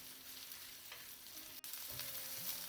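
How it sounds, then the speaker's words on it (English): Chopped onions frying with garlic in a pan, a steady close sizzle with faint stirring scrapes and a brief clatter partway through, no talking. "And then you add all these onions. And just let the onions soften for a couple of minutes."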